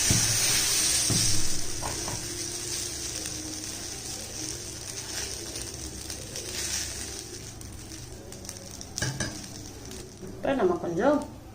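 Dosa batter with small onions and drumstick leaves fries on a hot pan, a close sizzle that is loudest at the start and then settles, with scraping and clatter near the end.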